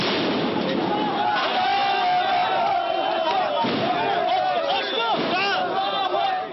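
Dense crowd shouting at the Rafah border crossing, many voices yelling at once, loud and close and unbroken, with sharper cries rising over the roar.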